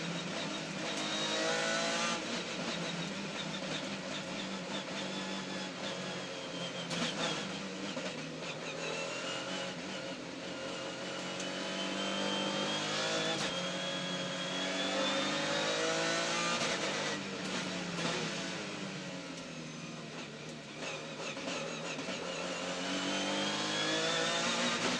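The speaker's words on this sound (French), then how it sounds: "leçon de dépassement à bord de la Peugeot 407 d'Eric Elary" A Peugeot 407 touring car races in the 2005 FFSA Supertourisme championship, its engine roaring loud and continuous from on board, rising and falling through gear changes with brief dips in pitch over the whole stretch.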